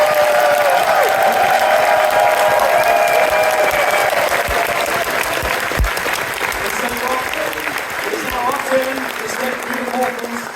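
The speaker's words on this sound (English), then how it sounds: "give yourselves a massive round of applause for being here and joining us, and a big cheer" A convention audience at a closing ceremony applauds and cheers in a steady, dense roar of clapping that fills the whole stretch, with a voice speaking over it.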